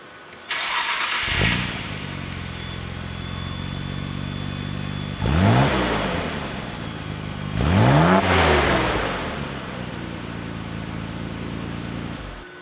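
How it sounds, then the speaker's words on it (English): Nissan Skyline R32 GTR fitted with a Nismo exhaust starts up, idles, then gives two sharp revs that rise and fall back to a steady idle, loud and close with no talking. "That is the Nismo exhaust and what it sounds like."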